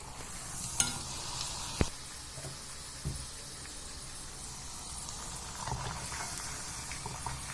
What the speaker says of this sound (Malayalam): ഇത് ആദ്യത്തെ പപ്പട ബോളി എണ്ണയിൽ നിന്ന് എടുക്കുവാണ്.